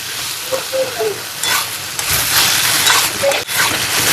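Cauliflower sautéing and being stirred in a hot pan over a high flame, a steady close sizzle with scraping stir strokes and brief clinks throughout.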